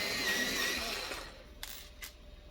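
A small handheld sharpener grinds a yellow colored pencil in a rough, dense rasp that runs steadily for over a second up close, then stops, leaving a couple of faint clicks.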